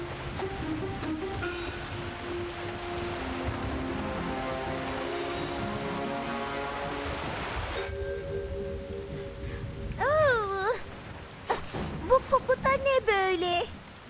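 Cartoon rain falls in a steady, even hiss beneath background music, continuing for several seconds before it gives way to animated characters speaking with lively voices.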